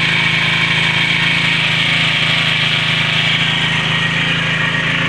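A 4-stroke grass cutter engine runs steadily during break-in, a continuous mid-pitched drone with a buzzy, raspy edge that stays even and close throughout, with no voices over it.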